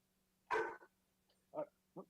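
A dog barks in the background, four short separate woofs and yips over a low steady hum, faint and distant.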